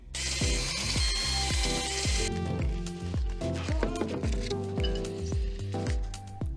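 A ratchet works steadily to take a wheel off a BMW M2, producing a fast, regular train of clicking pawl strokes close by over a bright hiss and mechanical noise.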